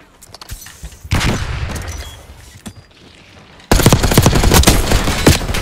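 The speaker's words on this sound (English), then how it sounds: "where's he shooting me from?" Bursts of automatic gunfire and single shots in a Black Ops 6 Hardpoint multiplayer match, sporadic at first, then a loud sustained volley of rapid fire that fills the second half.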